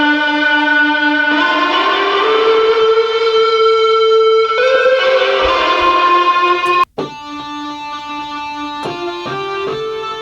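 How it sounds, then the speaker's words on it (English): An Omnisphere electric guitar lead synth played from a piano keyboard gives bright, sustained, distorted notes that bend and slide into each other, with a brief cut partway through before the line continues. "It's called like electric guitar lead."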